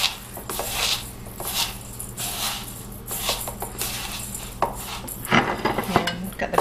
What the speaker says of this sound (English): I'm just going to mix this up.